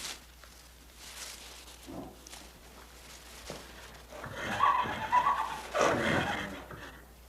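A young Irish foal neighs, with a brief whinny early on and louder, rising calls in the second half amid faint rustling and stable ambience.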